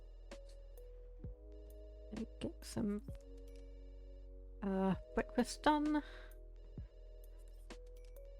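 Telephone ringing in The Sims 2 video game, with a few short bursts of a bright ringtone over a steady low hum and a brief spoken remark between the rings.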